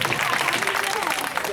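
An audience at a magic show applauds in a dense, steady patter of clapping that fills the whole moment, with a voice speaking over it.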